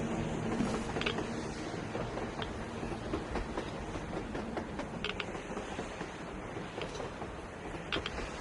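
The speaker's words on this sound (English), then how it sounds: "A train! A damn train on the surface!" A train passes in the video game Metro Exodus, a continuous dense rumble with rhythmic clattering and scattered metallic clicks, steady and moderately loud throughout with no voices.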